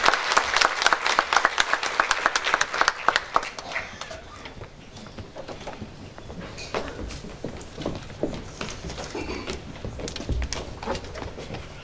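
An audience at a memorial gathering in a cemevi in Ümraniye applauds as a speaker is welcomed to the podium, dense clapping loud at first, then thinning and fading with scattered claps and shuffling.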